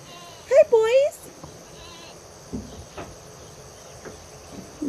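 Goats on a small farm let out a couple of loud, close bleats near the start, followed by quieter rustling, a faint insect chirp and distant bleats.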